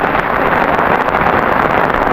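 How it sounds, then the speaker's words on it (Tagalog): Heavy rain pours down steadily during a storm strong enough to wash out a bridge, a loud, dense, unbroken hiss that fills the whole clip with no voices over it. "At saka malakas yung ulan talaga."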